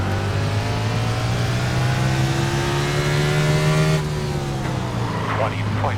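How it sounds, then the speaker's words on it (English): A NASCAR Cup race car engine in iRacing at Martinsville Speedway drones loudly and continuously, its pitch rising slightly and then dropping as the car passes, with another engine audible underneath. "Wow, that car came in out of nowhere."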